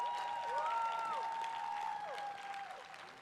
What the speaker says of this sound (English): can we give a round of applause to the APIAVote staff,